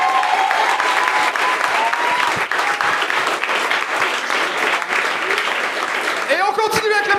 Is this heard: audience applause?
yes